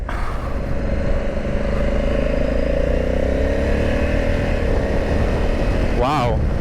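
A 2021 Honda Africa Twin CRF1100L DCT motorcycle accelerating in second gear up an on-ramp, its engine note climbing steadily under heavy wind rush, then a quick seamless upshift near the end.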